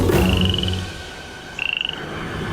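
Two short cartoon frog croaks, each a quick rattling burst, the second sharper and more pulsed, heard close and clear over a low background tone with no talking.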